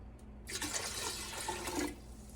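Water gushes steadily from a tap for about a second and a half, then cuts off, leaving a quiet low hum.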